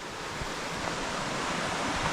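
Small stream called Surak flowing beside a path in the Vražji prehod canyon, a steady broadband rush of water with faint wind, continuous and even, no voices.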